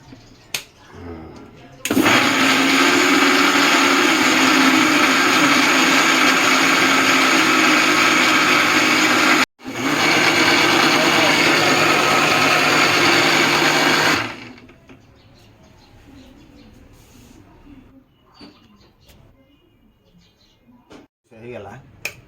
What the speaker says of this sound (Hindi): मिक्सी रे पकड़ा